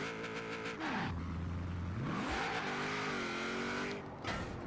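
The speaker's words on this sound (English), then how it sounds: "we're going to be able to do basically a brake stand here" Camaro in Forza Horizon 4, built for burnouts, held in an attempted brake stand: a loud engine revs up, drops, then climbs again into a sustained high roar, with tire noise underneath and no talking.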